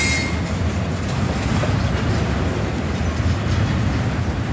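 NS and UP freight locomotives, including an EMD unit, roll past at night on their way out toward a yard, giving a steady, loud rumble with low-end drone and a faint high-pitched squeal throughout.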